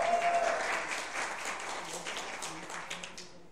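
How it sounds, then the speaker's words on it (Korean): Audience applause at an esports semifinal match: dense, steady clapping from a crowd that fills the whole stretch, fairly loud and even throughout, with a faint voice briefly underneath. "이런 아름다운 오모라 유저분들 박수 한번 주시길 바랍니다"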